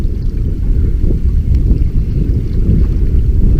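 Steady, heavy wind roaring and buffeting on a fishing outing, with dense low rumble throughout and no voices.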